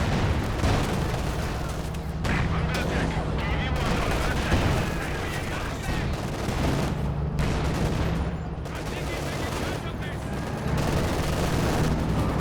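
Katyusha rocket artillery in the Company of Heroes 2 battle game fires dense, continuous volleys of booming blasts and rapid gunfire, loud and sustained throughout with short gaps, mixed with other battlefield explosions.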